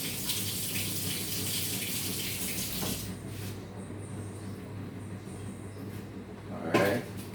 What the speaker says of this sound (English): rinse off the shrimp now.